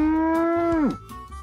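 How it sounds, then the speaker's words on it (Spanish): A cow gives a single drawn-out moo, close and clear, ending with a downward slide, alone with no talk over it. "¡Es una vaca!"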